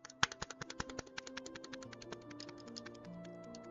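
Rapid clicking from a computer mouse during a digging game livestream. A fast, steady run of sharp clicks that starts louder and gradually softens over a faint tonal background, with no speech.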